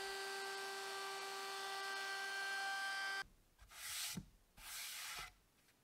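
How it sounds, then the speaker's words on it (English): Hand sanding of maple wood pieces with sandpaper, a few quiet back-and-forth rasping strokes following a steady electric whine at the start. "all the pieces got sanded with 80 and then 120 grit sandpaper"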